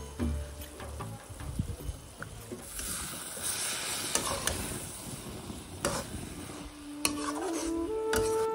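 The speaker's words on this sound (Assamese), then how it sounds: "তিনি মিনিটৰ মূৰে মূৰে এনেদৰে ভালকৈ লৰাই থাকিব যাতে তলত লাগি নধৰে" Taro stems and borali fish curry in a pan, sizzling as a spoon stirs and scrapes against the metal, with intermittent clinks and soft frying hiss close up.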